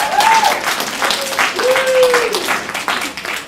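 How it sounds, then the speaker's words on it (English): A seminar audience claps for a child, a steady burst of hand clapping filling several seconds, with a few faint tonal squeaks over it. "Oh, give her a hand clap."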